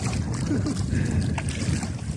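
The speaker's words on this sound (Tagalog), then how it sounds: "Medyo malakas na ito yung hangin." Strong wind buffets the microphone with a steady, heavy roar, broadband and continuous throughout, with a faint voice underneath.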